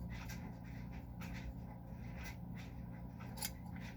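Tailor's shears cut through layers of kilt cloth in a few crisp snips over a steady low hum, close by and faint.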